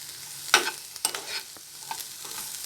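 Peas, tomatoes, French beans and carrots sauté in oil over low heat for a mixed vegetable soup, with a soft continuous sizzle and a few distinct spatula scrapes nearby, no talking.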